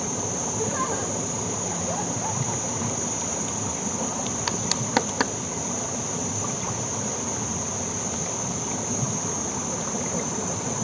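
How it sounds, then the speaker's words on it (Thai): Steady broadband rush of a waterfall at a Thai sightseeing spot, continuous and fairly loud throughout, with a few brief clicks midway and no talking. "วันนี้มาเที่ยวน้ำตกจ้า"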